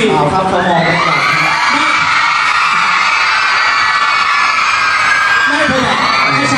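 A large crowd screams and shrieks continuously at high pitch, loud and sustained, with a swell of cheering throughout.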